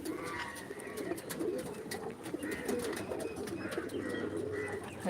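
Crested cross-breed pigeons coo in soft repeated murmurs, fairly faint, with scattered sharp chirps and clicks among them and no clear talking.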